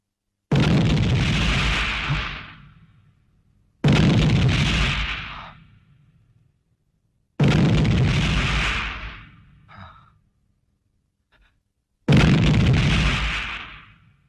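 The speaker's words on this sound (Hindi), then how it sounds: "ये धमाके" Four heavy explosion blasts in a 1980s Hindi action movie scene, each a sharp loud boom followed by a long rumbling decay, spaced a few seconds apart with silence between.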